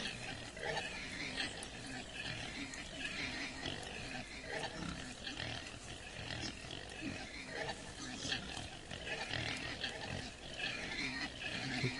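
A group of pigs being loaded onto a truck in a trucking video game keeps up a steady chorus of grunts, snorts and squeals, soft and continuous with no break over twelve seconds.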